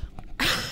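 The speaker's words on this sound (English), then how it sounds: "And I'm gonna sneeze." A single sharp sneeze bursts out near the end after a brief quiet breathy lead-in, close and loud, with no talk around it.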